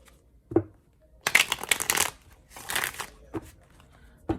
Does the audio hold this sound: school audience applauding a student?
no